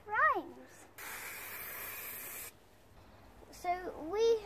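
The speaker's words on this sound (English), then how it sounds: "Spray about 10 centimetres away." An aerosol can of spray paint sprays in one steady, hissing burst of about a second and a half, close by, with talk just before and after.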